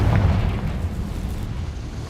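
A Confringo fire spell bursts in Hogwarts Legacy, a loud low booming blast at the start that rolls into a dense rumbling tail over about two seconds.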